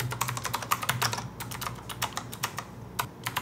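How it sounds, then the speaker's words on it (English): Fingers type on an Azio Retro Compact keyboard, a rapid run of crisp, close clicky keystrokes with an uneven rhythm and brief pauses. "try out the clickety-clackety sound of the keyboard"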